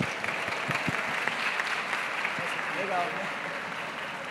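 Conference audience applauding at the close of a day of talks on artificial intelligence in a Volkswagen campaign, a dense, steady wash of many hands clapping throughout, fairly close and even, with no voices rising above it.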